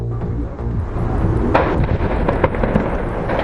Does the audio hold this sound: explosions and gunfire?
yes